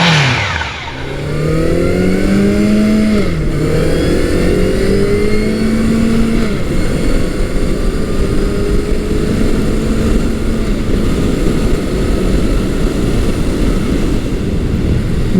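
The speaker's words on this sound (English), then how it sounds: "I'm currently riding Honda's 1992 Nighthawk 750" A 1992 Honda Nighthawk 750 motorcycle being ridden, its engine climbing through gears with rising whines and shift drops before settling into a loud, steady cruise under wind noise.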